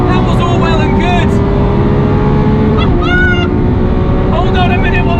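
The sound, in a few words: Lamborghini Aventador SVJ driving and shifting gears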